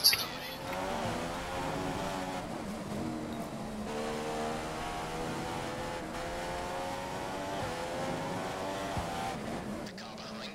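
A Formula 1 car at full revs in the F1 2015 racing game, a steady high-pitched engine whine held loud and constant for the whole stretch, with no talk over it.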